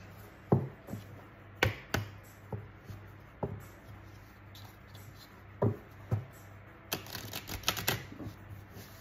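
Oracle cards being shuffled by hand for a reading: a series of sharp, separate taps and riffles, fairly close, spaced irregularly over a faint steady background hum, with no talk.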